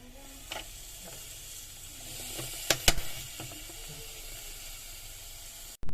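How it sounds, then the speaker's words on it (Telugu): Paneer pieces topped with pepper sizzle on a closed grill, a soft continuous hiss broken by a few sharp crackles and pops near the middle, ending in a brief clunk. "అంతే, గ్రిల్కి పెట్టేశాను. సో క్లోజ్ చేసి గ్రిల్ చేద్దాం ఒక 2 minutes."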